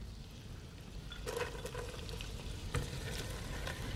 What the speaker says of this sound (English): I just added a little bit of onion, about 1 cup of finely diced onion to my butter